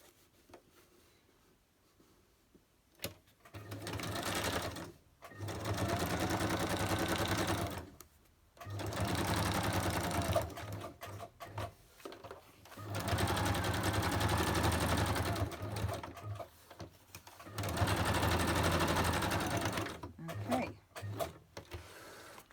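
Sewing machine stitching across the tops of paper book page pockets, running in four loud sustained bursts of rapid needle whir with short pauses between them.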